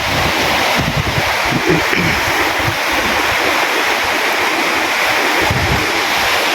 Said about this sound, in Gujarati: કુવારકામાં બહુ પાણી આવે છે